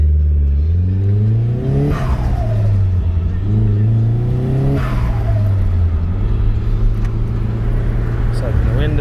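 A Nissan S15 Silvia engine hums steadily while cruising, with rising and falling pitch sweeps as it shifts through gears, heard loud and close from inside the car.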